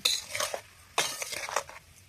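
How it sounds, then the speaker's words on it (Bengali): Coconut frying in a pan, two short bursts of metal scraping and clinking as it is stirred over a faint sizzle, close and fairly quiet. "নারিকেল ভাজা হচ্ছে এখন।"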